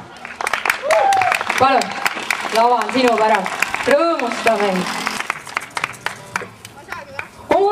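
Audience claps for a singer on stage at a family day event, with dense clapping running under a host's loud speech through the clip.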